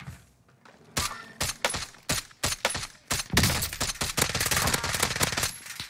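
Sharp, rapid DMR rifle shots from the Warzone video game ring out in quick, loud bursts, some single cracks and some tight strings of fire, with almost no talk.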